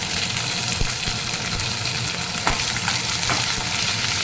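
Green chillies and curry leaves frying in hot oil give a loud, continuous crackling sizzle close by, with a few sharp pops and stirring scrapes, and no talking.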